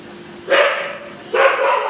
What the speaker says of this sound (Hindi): ये देखो ये भालू कैसे भौंकने लग रहा है